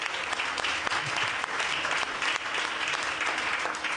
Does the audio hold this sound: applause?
yes